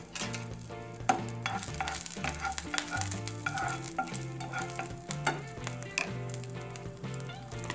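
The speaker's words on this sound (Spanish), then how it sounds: "Sofreímos el ajo picado" Chopped garlic sizzles steadily in hot oil, cooked just before spinach is added for a curry rice with vegetables; the frying sits loud and close, broken by repeated clinks and scrapes of a stirring utensil, with music playing underneath.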